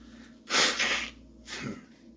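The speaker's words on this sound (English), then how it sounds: "blow my nose." A person blows their nose in two honking, breathy bursts, a longer one followed by a shorter one after a brief pause, close to the microphone.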